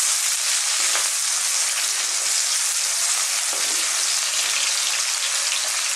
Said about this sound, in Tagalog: Lalagay na po natin ang ating garlic. Sabay na po ang onion. So, igisa lang po natin.